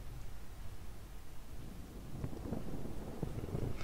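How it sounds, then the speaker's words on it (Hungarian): Wind blowing through the outdoor world of the video game Dead Island, a steady low rushing wash that swells slightly louder toward the end, with faint scattered thumps, no talking. "szél fúj"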